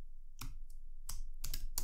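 Keys tapped on a computer keyboard while entering an answer in a Windows fundamentals exercise, a few separate short bursts of clicking, close and fairly quiet, with no talking.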